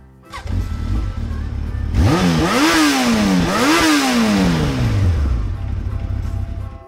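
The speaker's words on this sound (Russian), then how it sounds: "Спортивный мотоцикл." A sports motorcycle revs hard twice in quick succession, each rising whine falling away, with a last long descending pull. It is loud and close over a low rumbling idle.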